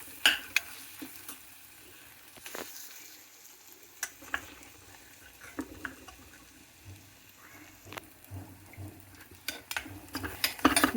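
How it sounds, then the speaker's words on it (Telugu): Aloo methi curry sizzles in a pan while a spoon scrapes and stirs through it, sharp metallic taps standing out over a steady low frying hiss. "ఇది వేగిందండి"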